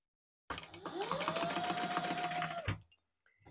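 A sewing machine runs steadily for about two seconds, basting fabric for a retro-style sling, starting with a short whir and stopping cleanly, close and moderately loud with no talking.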